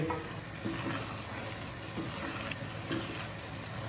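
Chana daal sizzling and frying in a pan over a high flame, with a steady dense crackle and occasional stirring scrapes, close and continuous.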